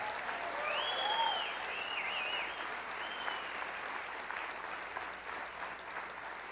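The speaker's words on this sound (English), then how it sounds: "Can we get a big round of applause for Carol?" An audience applauds an events coordinator at a staff gathering, steady dense clapping that holds at an even level throughout, with faint whistles or cheers mixed in early.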